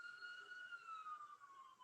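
A police or ambulance siren wails steadily outside in Tampa, a single sustained tone gliding slowly downward, faint and distant, with no voices over it.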